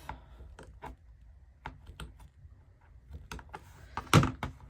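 Scissors snip chenille stems in half, with sparse sharp clicks and small handling taps at close range, ending in one louder cut or clatter, and no speech.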